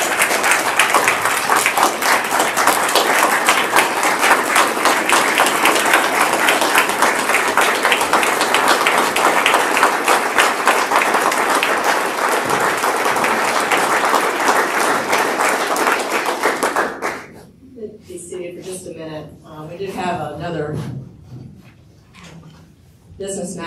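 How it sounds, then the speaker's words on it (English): Sustained audience applause for Barbara at a state bar council annual meeting, dense and steady for about seventeen seconds before cutting off abruptly, followed by quieter room sound and faint voices. "Let's give Barbara a round of applause."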